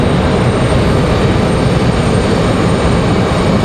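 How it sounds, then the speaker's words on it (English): An Endeavor CRJ 900 jet at stormy Raleigh-Durham airport gives a loud, steady, broad engine roar that fills the whole moment without letting up, with no voices over it. "That is Endeavor 5109. That's headed to LaGuardia, New York. CRJ 900."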